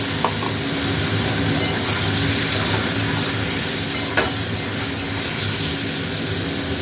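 Tomato and cashew paste sizzling in a hot pan while cooking a Bengali vegetarian bean dish in mustard-poppy seed gravy, a loud steady frying hiss throughout with no talking.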